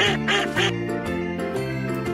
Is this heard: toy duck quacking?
yes